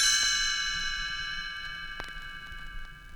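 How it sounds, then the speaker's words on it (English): A bright chime rings once as a read-along page-turn signal, a clear, sustained metallic tone that slowly fades, heard alone. "You will know it is time to turn the page when you hear the chimes ring like this."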